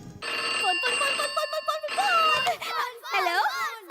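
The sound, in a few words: telephone ringing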